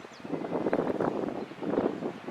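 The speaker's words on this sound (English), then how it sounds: "Sorry about that wind. It's very windy here" Gusty wind buffets the microphone outdoors, producing uneven bursts of muffled rumble and hiss that rise and fall over a couple of seconds with no talking.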